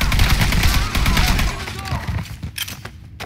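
Dense, rapid gunfire from the Mafia 3 video game during its final mission, a loud continuous stream of shots that thins out toward the end, with a voice speaking through it.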